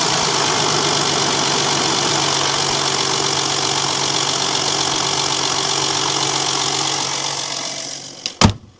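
An Audi A7 idles just after a cold start following a night outdoors, a steady loud close engine drone with a rough rhythmic knock, ending with a couple of sharp clunks.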